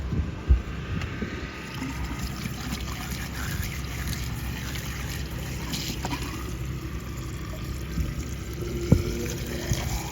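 Water runs out of a boat's cockpit drain at a dock, a continuous low trickle and wash with faint splashes and a couple of light knocks, steady and close throughout, with no talking.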